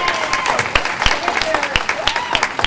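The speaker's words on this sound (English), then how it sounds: "Give him a round of applause." An audience gives a round of applause for a lifetime achievement award recipient, with individual claps crisp and close in a steady crowd patter, while a voice carries over it.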